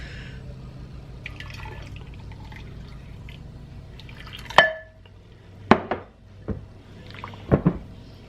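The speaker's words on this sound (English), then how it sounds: "I'm going to put some water in this. I'm going to use 2 cups of water in here" About two cups of water go into a crock pot holding chicken for chicken and dressing, heard as a few close, sharp splashes and drips with light clinks against quiet background.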